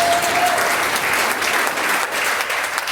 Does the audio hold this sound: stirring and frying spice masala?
no